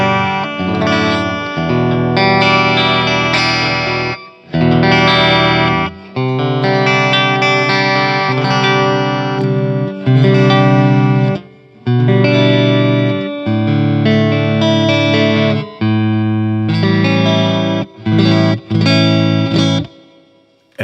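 Grote Strat-style electric guitar played through heavy distortion, loud sustained chords and riffs in phrases separated by short pauses, with no talking.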